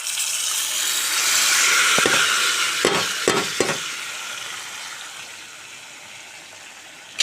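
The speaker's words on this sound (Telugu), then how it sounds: "రుబ్బి ఉంచుకున్న గోంగూరని అయితే ఈ తాలింపులో వేసేసుకుంటున్నాను" Ground gongura paste dropped into a hot tempering in a pan sets off a loud, steady broadband sizzle, broken by a few quick spoon scrapes before it gradually settles, with no one talking.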